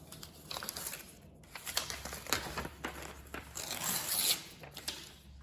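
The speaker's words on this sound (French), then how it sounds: "on va déchirer le papier déjà" Close-up crinkling and tearing of paper in several quick rips and rustles, fairly quiet, with no talking.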